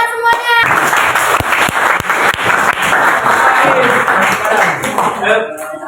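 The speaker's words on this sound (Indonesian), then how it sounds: "Tepuk tangan semuanya." A class of students claps together in a classroom, a dense burst of applause lasting several seconds that fades at the end, with a brief voice at the very start.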